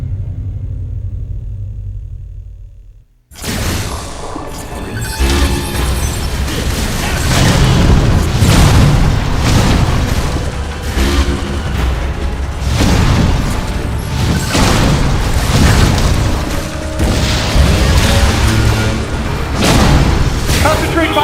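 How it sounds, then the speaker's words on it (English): Missile explosions in the Wii game Metroid Other M, heavy booming blasts and rumbling over a dense, loud game soundtrack, repeating through the scene. "Now, use your missile!"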